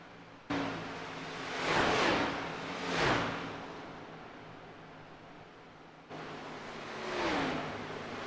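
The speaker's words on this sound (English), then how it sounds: "But listening to Williams drive it in the corner, it sounds like he is good to go to the finish" Race cars in the iRacing sim sweep past through a corner, with engine whooshes building and fading around two and three seconds and again near seven, over a steady broadband roar.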